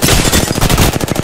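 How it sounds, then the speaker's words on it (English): Rapid machine gun fire from a video game, a dense run of loud, closely spaced shots lasting about a second with no pauses. "Opening fire on the enemy."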